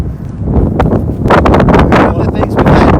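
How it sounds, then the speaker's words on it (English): Wind blowing hard outdoors on a nature trail, a steady loud gusting roar that buffets the microphone throughout. "It is windy."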